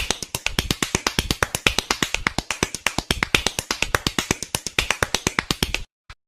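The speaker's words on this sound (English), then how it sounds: "Everybody can hear the clapping." A rapid, steady run of close, crisp hand claps, about six per second, going on for nearly six seconds before stopping, with one last clap after a brief pause.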